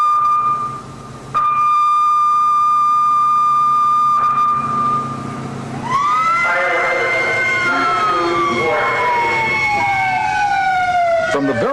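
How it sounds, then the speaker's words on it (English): Fire engine siren from the New Haven Fire Department on the way to a fire: first a steady tone and horn blasts, then loud rising and falling wails sweeping over each other with traffic rumble underneath. "From the very second the alarm sounds and the engine is on its way to a fire"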